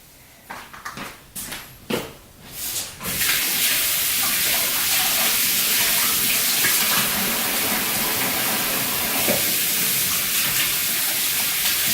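Kitchen tap water running while hands are washed, a loud steady hiss of flowing water after a few brief knocks and splashes at the start, alone without talk.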